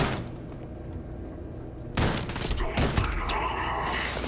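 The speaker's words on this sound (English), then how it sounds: "I missed with a shotgun" Shotgun blasts in the video game Starfield: two loud, sharp bursts about a second apart, each followed by a short rumbling tail over faint game ambience.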